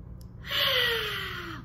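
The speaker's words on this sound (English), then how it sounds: "Take a big, deep breath." One big, deep breath, drawn in and then blown out through the mouth as a single sustained breathy whoosh that fades over about a second, close and alone.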